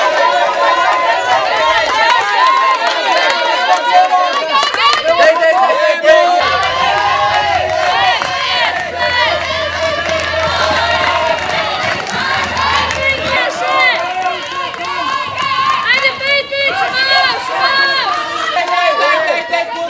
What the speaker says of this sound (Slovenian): Zanje navijajte še bolj na glas.